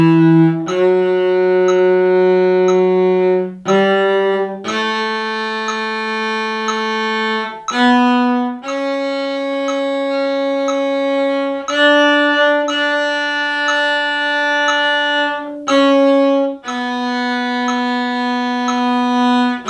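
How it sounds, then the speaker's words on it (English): A cello plays a slow scale in a long-short pattern, each sustained dotted-half note followed by a shorter quarter note, bowed clearly and close with brief breaks between pitches and no talking. "now I'm going to play the scale in dotted half notes, and then I'm going to play one of the notes in a quarter note beat."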